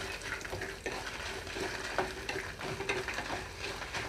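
Sesame, coriander seeds and dry red chillies roast in a pan over a low flame, giving a soft continuous sizzle broken by scraping stirs and light rattles of seeds. No one speaks.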